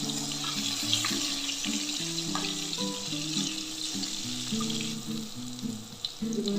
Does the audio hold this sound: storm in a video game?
no